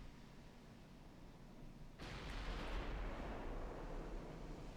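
A distant 8-inch naval gun fires in the battleship game Ultimate Admiral Dreadnoughts, a single broad boom that rises abruptly out of a low background rumble and trails off into a sustained roar.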